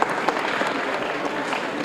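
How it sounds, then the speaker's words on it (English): Audience applause at a Goodwill thanks-giving event, a dense steady wash of many hands clapping for a short burst, fairly loud and close, with a few voices mixed in. "So can we give them a round of applause?"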